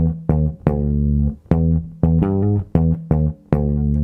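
Funk bass groove on a single bass, the offbeat sixteenth-note hook and the body of the riff played together: punchy plucked notes in a tight syncopated rhythm with short gaps, close and loud with no talk.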